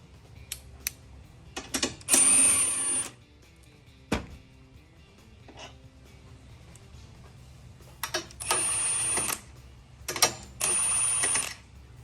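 Bolts and nuts coming off a strut bar in the engine bay of a 2021 BMW M4 with the S58 engine: repeated bursts of ratcheting tool clicks, separated by quiet pauses and a single sharp knock, close and clear.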